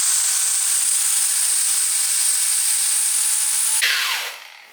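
An angle grinder with a soft disc cleans a rear steering rack from a 4WS 3000GT, whining steadily at a high pitch, then spinning down near the end.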